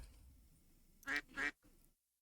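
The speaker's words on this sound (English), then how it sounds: "Quack." Two loud, close duck quacks from a video game, following a faint short call and ending in a softer trailing sound, with no talking.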